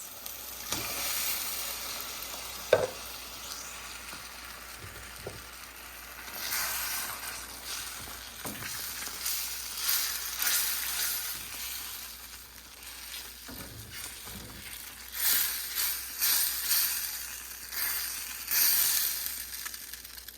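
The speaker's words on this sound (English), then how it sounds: "I'm going to add those to this pan and pick up all of those brown bits" Cream of mushroom soup sizzles in a pork chop pan as it is stirred to lift the brown bits, a steady hiss broken by occasional scraping knocks and swells of bubbling.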